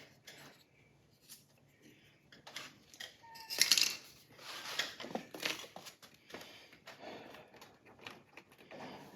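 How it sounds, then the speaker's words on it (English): A strip of tape pulled and cut off the roll during a Harley-Davidson Sportster battery upgrade, a short crisp rip near the middle followed by faint rustling and handling noises in a quiet workshop. "So I'm gonna cut me off a little bit of tape here."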